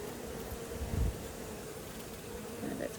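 Bees crawl over a honeycomb, their soft, steady buzzing drone lasting throughout, with a brief low thump partway through.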